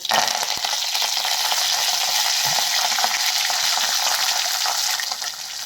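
Tempering spices and curry leaves splutter in hot oil for a Gujarati kadhi, producing a loud, continuous, hissing sizzle up close that eases slightly at the end, with no talking.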